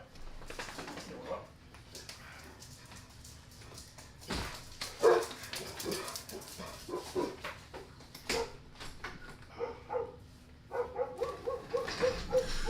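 Dogs bark indoors at a UPS delivery man approaching the door, with scattered yips, whimpers and repeated barks in irregular bursts, moderately close, alongside a person talking.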